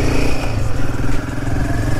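A Royal Enfield Himalayan 450 motorcycle pulls away at the start of a ride, its engine note running steady and loud throughout at close range, with no talk over it.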